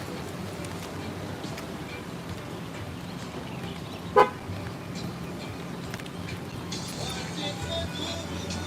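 A single short car horn toot in Hawaii sounds once partway through, standing out briefly over steady road and vehicle ambience.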